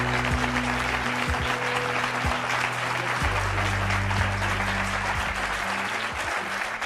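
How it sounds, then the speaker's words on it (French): A television talk-show studio audience applauds a guest being welcomed, with loud, sustained dense clapping over low held music chords throughout. "je vous propose d'accueillir et d'applaudir Robin"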